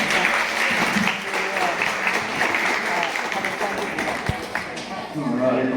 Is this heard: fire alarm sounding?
no